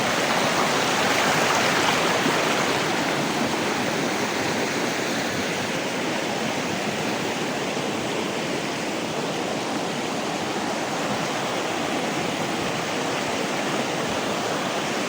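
Steady rushing water from a flowing creek, a continuous broadband wash that stays even and fairly loud throughout, with no voices over it.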